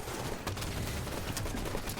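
The Needler weapon from Halo 5 fires in rapid succession, a dense stream of quick sharp bursts crackling continuously at moderate level, with no one speaking over it.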